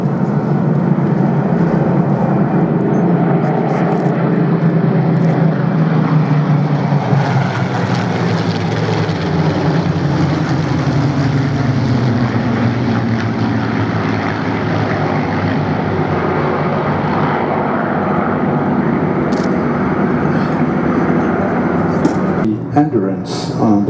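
WWII propeller fighter aircraft flying at the Duxford Flying Legends 2015 airshow, a steady loud engine drone that swells and shifts in pitch as it passes, with a faint voice mixed in.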